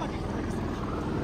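Steady broadband helicopter rotor and engine roar, loud and close, with voices mixed in throughout.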